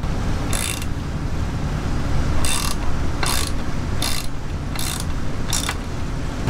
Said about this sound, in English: And we tighten the bolt and it should be all set to go.